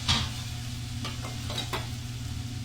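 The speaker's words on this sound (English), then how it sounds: "We're going to go ahead and toss our beans up in there. Hear them sizzle, that water in there getting them." Beans and onions sizzle in a hot pan with a soft continuous crackle, and a few light stirring clicks and scrapes rise over it.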